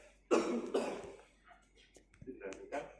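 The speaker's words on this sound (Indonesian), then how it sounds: "tarik nafas dalam, tahan, batukan 2 kali." During chest physiotherapy a patient coughs twice in quick succession, close and distinct, followed by faint throat sounds and soft murmuring in a quiet room.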